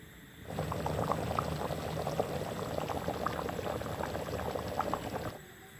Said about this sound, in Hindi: थोड़ा सा पानी डाल दिए हैं इसमें, पूरी तरह उबल जाएगा तो उतार देंगे और खाएंगे इसको।